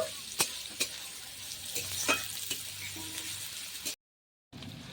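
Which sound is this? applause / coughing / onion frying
onion frying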